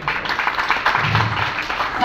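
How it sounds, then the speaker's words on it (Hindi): A crowd at a BJP political campaign event in India applauds, a steady wash of mid-level clapping with some voices mixed in, continuing evenly throughout. "तो जोरदार तालियां करें।"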